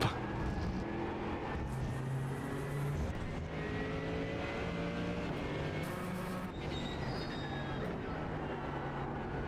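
A Porsche Cup GT3 race car in a racing video game at Brands Hatch drones steadily, its engine tone shifting through gears with faint tyre noise, close and continuous, with little talk.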